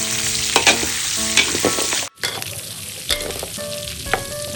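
Hot oil sizzles steadily in a pan, a dense continuous hiss with a brief dropout midway, then resumes with scattered pops and faint utensil clinks; no one speaks.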